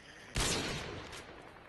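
One sharp, loud sniper shot from a quickscope match in a first-person shooter snaps out and leaves a long decaying echo, with nothing else around it.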